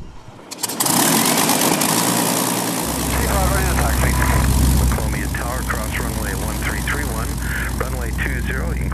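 A Seafire propeller fighter plane's engine catches and runs, a loud rough rumble that swells after a starting crank and then settles into a steady roar, with voices speaking over it.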